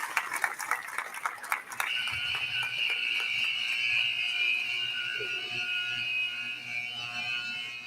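A loud, continuous alarm buzzer drones for several seconds after a burst of clapping and noise, holding steady to the end.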